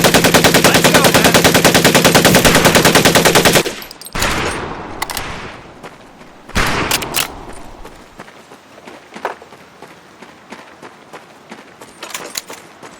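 Rifle and machine gun fire on a USMC boot camp range in Medal of Honor: Pacific Assault: a loud, sustained rapid burst of automatic fire for several seconds, then scattered single rifle shots with pauses between them.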